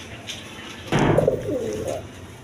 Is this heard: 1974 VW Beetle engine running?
no